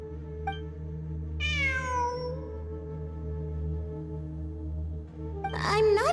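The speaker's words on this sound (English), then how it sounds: "It really is a cat." A cat meows inside the video game Genshin Impact, rising and falling in a drawn-out cry over steady game music, then a shorter, louder meow near the end.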